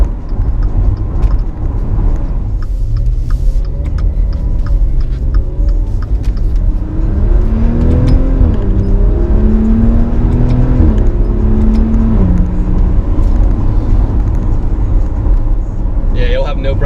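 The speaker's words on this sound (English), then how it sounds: "the car glides right up to speed" An SUV pulls up to speed with a steady, close engine rumble, its pitch climbing in stepped gear-like rises through the middle of the run and continuing smoothly to the end, with light talk underneath.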